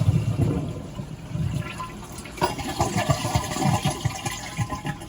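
A household toilet flushes with the supply turned off, emptying the tank: a close, loud gurgling rush of draining water that surges again partway through, with no speech.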